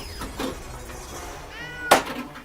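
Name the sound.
cat meowing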